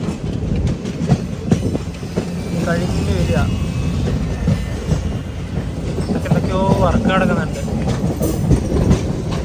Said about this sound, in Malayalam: കൊല്ലത്തേക്ക് ഇതാ നമ്മുടെ വണ്ടി എത്തിക്കൊണ്ടിരിക്കുകയാണ്.